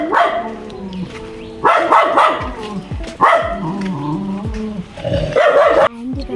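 A dog barks in several loud, harmonic bursts spaced a second or two apart, close by, with a steady mix of other background sound between the barks.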